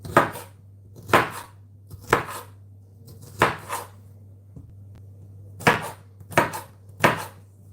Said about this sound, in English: I'm stacking them together, and I'm just chopping like that